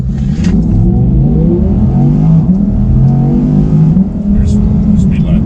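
Audi R8 V10 rear-wheel-drive coupe accelerating hard, its engine note climbing steadily through the revs up close, with a brief shift and renewed pull before easing near the end.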